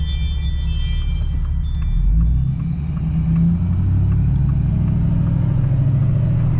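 A 2024-or-newer Ford 6.7 Powerstroke diesel pickup with a 587 wheel-horsepower tune, driving in tow haul as the throttle is lightly tapped, a loud steady low rumble inside the cab with a slight swell in pitch and no talk.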